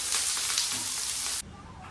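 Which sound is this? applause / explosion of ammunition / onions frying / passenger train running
onions frying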